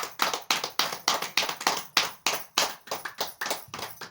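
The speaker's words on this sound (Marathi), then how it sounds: "सुंदर अशा टाळ्या वाजवा सगळ्यांनी." Participants at the end of a guided meditation session clap in a steady, rhythmic beat, roughly three or four claps per second, sounding close and clear, with no talking.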